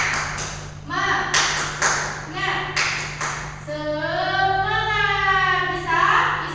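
A group of children perform a rhythmic spirit clap, sharp handclaps landing in a steady pattern between their chanting voices, close and lively throughout.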